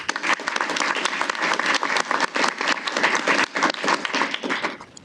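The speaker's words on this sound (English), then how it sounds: "Please, let's give them another round of applause." An audience at a Defense Logistics Agency Combined Federal Campaign ceremony applauds agency leaders. Dense, loud clapping from many hands fills the whole stretch without a break.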